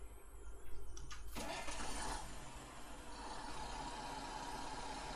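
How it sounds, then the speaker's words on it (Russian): A YaMZ tractor engine in the game Farming Simulator 19 cranks and catches, then settles into a steady low, rumbling idle close by. "Ох, как звучит движок ЕМЗ, да? Поет прям."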